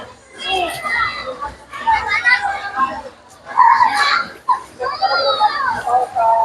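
Children play and shout at a resort pool during a rainy team-building outing, bursts of high excited voices and squeals coming and going close by, with brief quieter gaps between the groups of calls.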